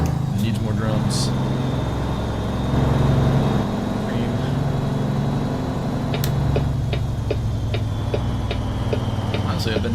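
Idling engine of a custom Kenworth W900 truck in American Truck Simulator during a night drive, a steady low rumble running under continuous talk with faint periodic ticking.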